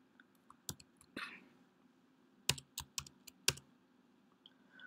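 Computer keyboard typing as C++ code is written, heard as scattered, close key clicks in short bursts separated by quiet pauses, with no voice.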